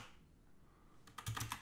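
A few quick keystrokes on a computer keyboard entering a command for a Raspberry Pi update, close and quiet, after a moment of faint room hiss.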